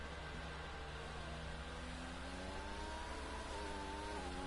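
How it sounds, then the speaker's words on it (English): Racing car engine in a racing video game strains and revs steadily, a continuous harmonic whine rising gradually in pitch as the gearbox labours, heard alone without voices. "That gearbox did not sound happy."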